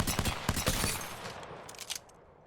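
P2020 pistol shots in the Apex Legends video game: a quick burst of sharp, close reports in the first second, then fainter scattered pops and clatter.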